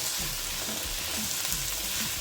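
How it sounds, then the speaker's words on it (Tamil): Small onions sautéing in a pan, cooked for mutton chukka, give a close, steady crackling sizzle, with soft low bubbling pops underneath and no talk. "இதை நல்லா வந்து வதக்கி எடுத்துக்கணும். வெங்காயம் நல்லா வதங்கட்டும்."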